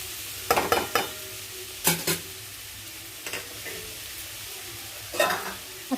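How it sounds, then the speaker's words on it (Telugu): A spoon scrapes and stirs diced beetroot and fresh grated coconut fry in a pan, with several distinct clattering strokes spaced apart over a soft background sizzle. "మరొకసారి కలిపేసుకుందాం."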